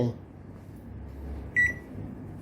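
A short, high electronic beep from a Samsung microwave oven cuts through quiet background hum, a single tone lasting a fraction of a second. The oven's fan, turntable and lamp run but it won't accept commands.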